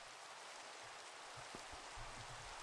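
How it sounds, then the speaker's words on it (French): Steady rain falling in a forest, a soft continuous hiss with scattered low drips and patters, faint and without voices. "Si je dors pas, il va continuer à pleuvoir."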